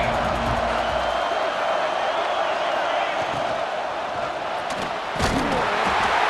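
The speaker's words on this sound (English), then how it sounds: "This crowd ready to make its presence known." A football stadium crowd roars in a steady, loud, dense wash of cheering and shouting that barely changes, with a brief louder burst near the end.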